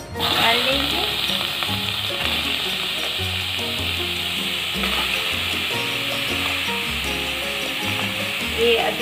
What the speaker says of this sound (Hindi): प्याज और टमाटर हमने ये मोटा सा काट लिया है, इसको हम डाल देंगे।